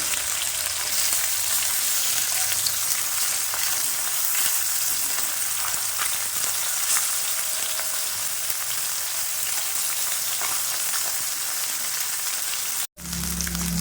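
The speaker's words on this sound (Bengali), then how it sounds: "অল্প অল্প করে মাছগুলো ভেজে নেব।" Gang Mourola fish frying in hot oil a few pieces at a time, giving a steady, dense sizzle that holds at an even level throughout and cuts out abruptly just before the end.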